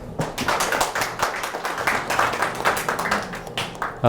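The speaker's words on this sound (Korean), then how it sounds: "다시 한번 박수 한번 부탁드립니다" An audience at an academic colloquium gives a round of applause, with crisp individual claps blending into a steady, moderately loud patter that continues throughout.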